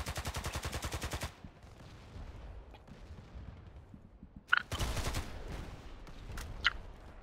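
AK-47 fire in a video game: a loud burst of rapid, evenly spaced automatic shots, then quieter game ambience broken by a few more short, sharp bursts.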